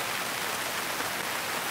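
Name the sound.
heavy rain falling at athletics competition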